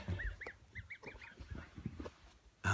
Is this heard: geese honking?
yes